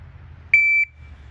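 A single clear electronic beep from a pistol shot timer on a shooting range, short and sharp over a low background hum.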